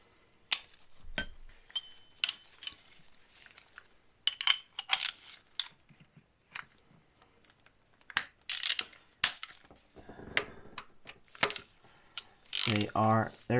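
A ratchet slackens cam cap bolts on a Jaguar V8 engine, with scattered close clicking ratchet bursts and metallic clinks separated by quiet pauses.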